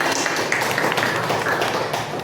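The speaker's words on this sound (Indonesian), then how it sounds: "Beri tepuk tangan untuk Mbak Mary." Classroom applause for a student presenter during a science lesson: a dense, steady patter of many hands clapping together, fairly close and continuous throughout.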